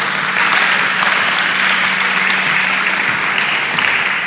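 Steady, dense applause from a conference audience at a climate adaptation forum, continuous clapping throughout at a fairly loud level, with no talk over it.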